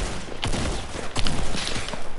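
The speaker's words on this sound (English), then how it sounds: "I'm gonna shoot randomly through the smoke. Random engage fire into the smoke." Gunfire sprayed blindly into a smoke cloud during a video game firefight: a dense, rolling burst of shots with sharp cracks near 0.5 and 1.2 seconds, loud and close, set against busy battle noise.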